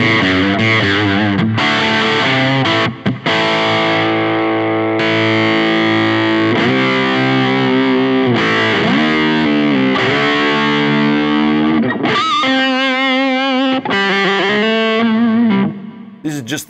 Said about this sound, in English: This is just the fuzz at the moment without any octave.